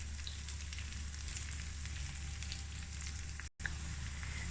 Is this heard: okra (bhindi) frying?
yes